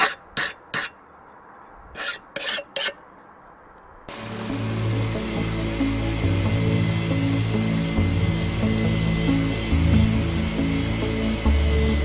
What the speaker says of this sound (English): I will start with the angle grinder because there's a lot of metal to take off